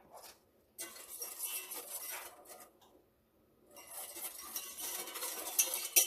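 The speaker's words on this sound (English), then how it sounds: "So that's a half a cup of sugar and 2 tablespoons of cornstarch. Give that a whisk" Sugar and cornstarch are whisked together in a bowl, making two close bursts of brisk, scratchy scraping separated by a short pause, with light clinks against the bowl.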